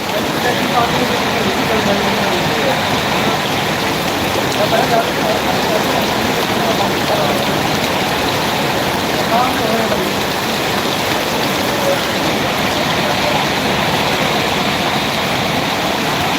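Heavy rain pours on a tent house, a dense, even roar of drops drumming without pause, loud and close for the whole stretch.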